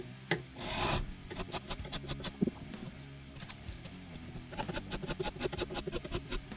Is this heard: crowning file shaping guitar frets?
yes